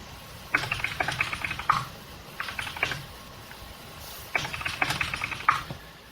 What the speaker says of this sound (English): all you hear is typing on the keyboard